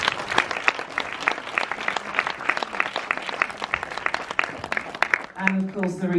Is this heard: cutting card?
no